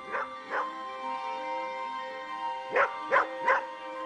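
Dogs close by let out short yips and barks in small bursts, with a thin, drawn-out whimpering whine running beneath them.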